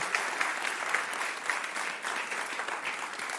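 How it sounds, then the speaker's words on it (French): Continuous audience applause at a live KickCancer charity ceremony, a dense, even wash of many hands clapping at moderate volume with no talk over it. "On les applaudit encore bien fort."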